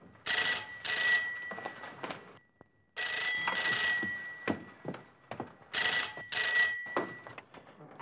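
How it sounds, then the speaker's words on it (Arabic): An office telephone in an old Egyptian film rings in repeated loud electronic bursts, three ring cycles separated by short pauses, close and clear. "ده تليفون المكتب"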